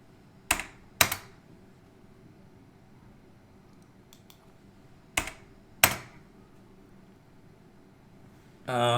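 Computer mouse clicks while designing a book cover: four sharp, faint clicks in two pairs, spaced a few seconds apart over a quiet room hum, with a brief rustle at the end.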